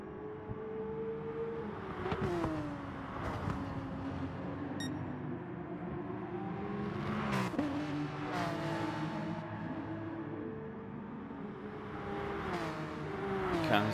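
Race car engines in a sim racing game hold a steady, whining drone, rising and falling with gear changes and occasional sharp shifts, continuous and fairly quiet throughout.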